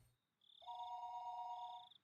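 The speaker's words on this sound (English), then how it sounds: "when the phone rang once again" A telephone rings in the Higurashi When They Cry video game, a steady electronic ringing tone held for over a second, clear and alone against a quiet background.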